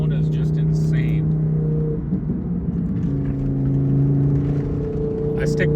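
Twin turbo Audi R8 V10 idling and revving in snowy surroundings, a loud steady low engine drone with a rev swell midway, continuous and close throughout.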